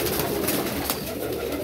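Pigeons kept in a loft coo softly under a continuous close wash of feathered rustling and ambient noise, a short low murmuring burst.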